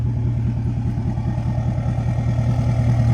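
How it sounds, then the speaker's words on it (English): Chevy Duramax diesel pickup truck idling, heard at the exhaust: a steady, deep, rhythmic diesel rumble with a fast regular clatter, close and fairly loud, with no voices. "Give you guys a little exhaust clip."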